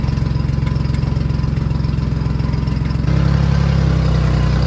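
A Jeep Liberty engine runs steadily at a low idle-like drone, growing slightly louder and rougher about three seconds in as four-wheel drive is engaged, with no talk over it.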